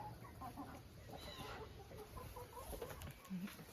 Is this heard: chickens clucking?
yes